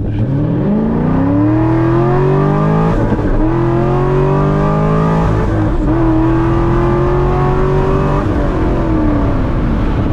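A 500HP C6 Corvette with traction control on accelerates hard from close range, its engine note rising through several gears with clear dips at each shift, loud and continuous with no voices.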